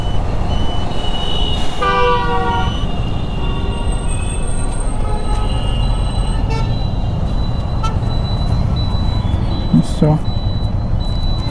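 Busy road traffic heard from a Kawasaki Ninja Z900 motorcycle ride, with a steady engine and road rumble, several short horn honks and a longer toot, plus a voice talking over it.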